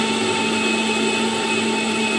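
An electric blender grinding a spice mix into paste, a loud steady motor whine droning without a break and cutting off at the very end.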